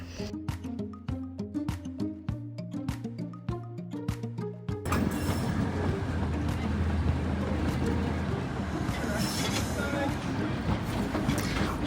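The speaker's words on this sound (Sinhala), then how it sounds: "ඉතින් මේ වීඩියෝ එකේ තියෙන්නේ අපේ ට්‍රේන් එකේ ගමන විතරයි" A heritage train runs on the Walhalla Goldfields Railway in Australia, a line over 100 years old. A steady broadband rumble and rattle rises after a few seconds of sharp rhythmic tapping and continues evenly to the end.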